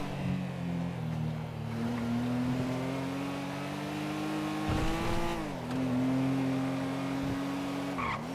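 In the video game GTA V, a car is driven at full speed, its engine holding a loud steady high-revving drone with gear shifts and brief tire squeal. The sound stays close and continuous, with no voices.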